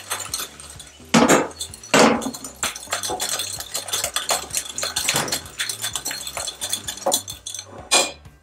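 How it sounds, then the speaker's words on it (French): A whisk beating salt and baking powder in a bowl for banana cake, a run of sharp metallic clinks and scrapes against the bowl in an irregular rhythm, close and fairly quiet with no talk. "je mélange les ingrédients, du sel avec ma poudre à pâte"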